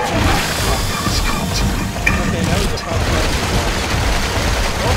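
Enemy gunfire in Resident Evil 6, a dense, continuous volley of shots and impacts that stays loud and close throughout, mixed with game noise and possible voices underneath.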